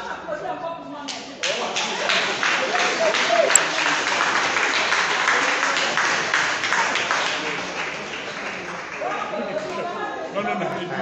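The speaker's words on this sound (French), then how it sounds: "moi j'applaudis encore pour moi-même" Workers of the Gabonese company SOGATRA, meeting over unpaid salaries, break into applause: dense clapping swells after a spoken lead-in, holds for several seconds amid chatter and laughter, then fades as voices return.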